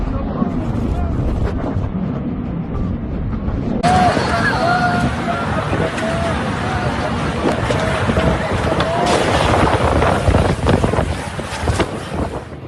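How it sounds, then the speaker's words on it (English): A fierce storm wind sweeps through Mecca, Saudi Arabia: a loud, continuous roar of gusts buffeting the microphone, growing harsher partway through and staying intense to the end. "A fierce storm struck Mecca, Saudi Arabia, bringing with it strong wind that knocked people off their feet"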